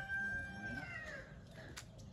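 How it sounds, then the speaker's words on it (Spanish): Chickens and roosters kept for breeding on a ranch in Sinaloa cluck and crow faintly in the background, with a soft drawn-out crow and scattered calls over low outdoor noise. "Gallos, aquí tiene gallinas y gallos de esos que son para cría."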